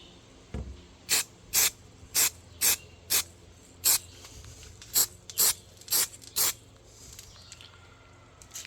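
A spray can spritzes a fine dust coat onto a part of a 2001 Silverado 2500 HD truck in about eleven short, sharp hissing bursts, close up and evenly spaced, between quiet gaps.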